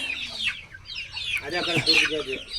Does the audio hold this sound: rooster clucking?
yes